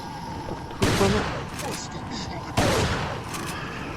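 Gunfire in the video game Resident Evil 4: two sharp, loud shots about two seconds apart, each with a brief ringing tail, over a steady game music and ambience bed.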